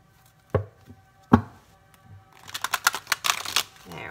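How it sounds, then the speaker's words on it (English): Tarot cards are shuffled by hand: two sharp isolated card slaps, then a rapid burst of riffling flutters close up, with no talk. "I'm having trouble shuffling for you"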